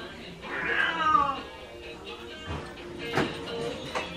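A house cat meows several times up close, drawn-out and wavering calls with a couple of sharper cries, amid faint room noise and light handling.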